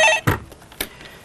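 A telephone rings in short bursts, a few sharp electronic tones separated by brief gaps, clear and close in an otherwise quiet room.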